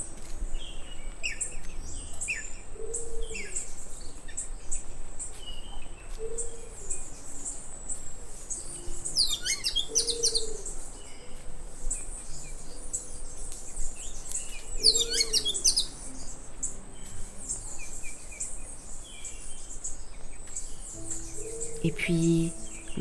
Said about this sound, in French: J'ai entendu plein d'oiseaux merveilleux.